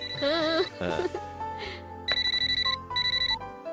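A phone rings with electronic melodic tones, followed by a repeated rapid trilling ring pattern, loud and close with no speech.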